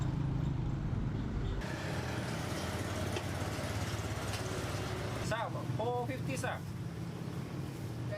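Traffic rumbles along a busy road in Dumaguete, in front of a shop hung with red lanterns. Engines drone steadily throughout, one vehicle passes close, and a voice talks over the noise.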